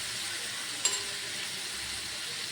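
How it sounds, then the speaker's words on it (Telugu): Whole prawns frying in hot oil for fried rice give a steady, dense sizzle throughout, with one brief sharper crackle near the start and no talking. "మొత్తం రొయ్యలని ఫ్రై చేస్తాను"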